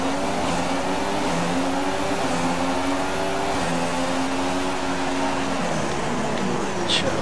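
Alonso's Honda Formula 1 car in the video game F1 2016 at the Austrian track, its engine droning loud and steady with shifting pitch throughout, briefly dropping near the end, alone without talking.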